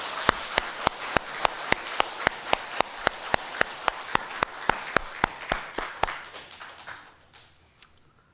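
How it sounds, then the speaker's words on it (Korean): A church congregation claps together in a steady, even rhythm, the sharp claps fading into scattered final claps with one late clap near the end. "우리 박수로 하나님 앞에 큰 영광 돌립시다"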